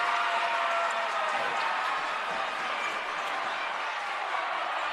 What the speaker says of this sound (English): the Okawville fans are cheering for that one